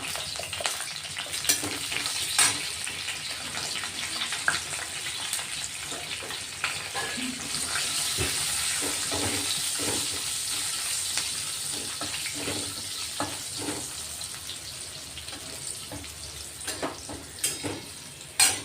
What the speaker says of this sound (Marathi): लसूण चांगला लाल होतोय आपला, तोपर्यंत परतून घेणार आहेत आपण